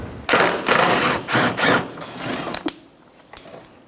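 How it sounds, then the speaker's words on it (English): Ratchet spinning off a 10mm bolt holding the bumper corner on a 2007-2012 Nissan Altima, a series of quick, loud, close rhythmic clicking bursts that taper off into quieter handling noises. "Remove that 10mm bolt"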